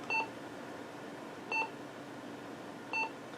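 Three short electronic beeps from a Motorola Maxtrac or Radius two-way radio at steady intervals, about one and a half seconds apart, over a constant low background hiss.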